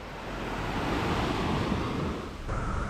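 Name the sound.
ocean waves at a beach in St Vincent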